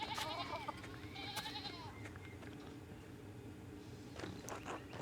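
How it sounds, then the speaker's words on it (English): Several sheep bleat in Pentiment, their cries overlapping in a steady rhythmic pattern, with a hum of game ambience and a few soft steps continuing beneath. "Okay, those sheep are blocking the way."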